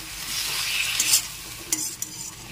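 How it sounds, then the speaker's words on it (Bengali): Poppy seed paste gets stirred together with bottle gourd stems, water and salt in a pan. A steady, close scraping swish runs throughout, with a few sharper knocks near the end and no voices. "এখন সব কিছু একসাথে খুব ভালো করে নেড়ে চেড়ে মিশিয়ে নিচ্ছি"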